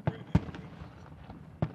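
Fireworks bursting outdoors at a Fourth of July Independence Day celebration: three sharp booms, one near the start, a louder one shortly after and a third near the end, over a faint background murmur.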